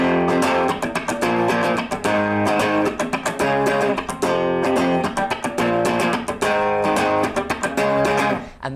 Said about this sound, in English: the first thing I'm going to teach you how to play in this lesson is this main riff, which starts off like this.